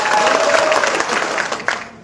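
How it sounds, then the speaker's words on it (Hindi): Sustained applause from a crowd at a Congress party political meeting in Pawta, steady and dense throughout with a brief louder burst near the end. "ये तालियों की गड़गड़ाहट बता रही है"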